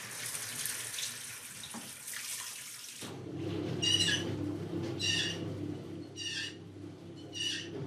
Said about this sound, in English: We've got water.